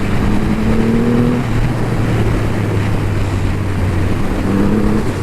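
Triumph Rocket III GT motorcycle with a 2500cc engine, heard while riding as a loud, steady, deep engine drone under heavy wind rush, its pitch rising briefly twice.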